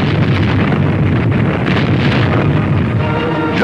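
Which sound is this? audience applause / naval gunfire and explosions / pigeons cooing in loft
naval gunfire and explosions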